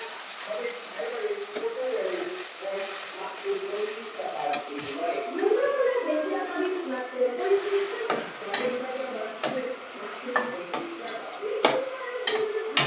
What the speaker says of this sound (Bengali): এইভাবেই আমি নাড়াচাড়া করে টমেটোটাকে আস্তে আস্তে ফাঁক করে নেব